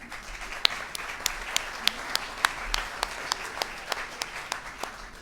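An indoor audience at an awards event claps in steady applause, with regular sharp hand claps standing out over a softer bed of clapping throughout.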